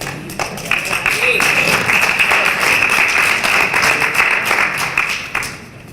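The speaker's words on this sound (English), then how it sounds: "Thank you all for clapping" Steady applause from an audience at a community business and philanthropy gathering, dense clapping sustained for several seconds at a loud level before tapering off at the end.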